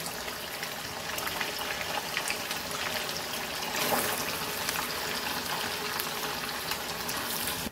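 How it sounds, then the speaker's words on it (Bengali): Paneer frying in hot oil, a steady bubbling sizzle that holds at an even level, swelling briefly midway, close and alone with no talk. "এবার বাকি পনিরটা দিয়ে দিচ্ছি, এবার ভেজে নেবো।"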